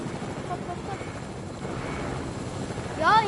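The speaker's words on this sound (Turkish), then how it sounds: "Biz bence bu helikopterden inelim." A helicopter in a PS4 video game thrums steadily and fairly loudly throughout, with a brief higher-pitched sweep near the end.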